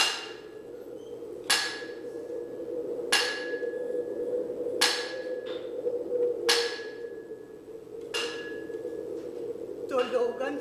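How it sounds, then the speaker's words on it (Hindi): A chisel strikes stone in six sharp, evenly spaced metallic clinks that ring briefly, with a low steady background drone. "पत्थर पे छेनी की मार पड़त होए ना"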